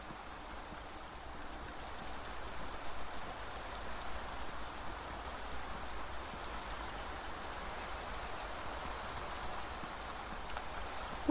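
Steady rainfall in the game Beyond Eyes, an even, soft hiss of drops on surfaces that runs without a break and stays faint and constant throughout.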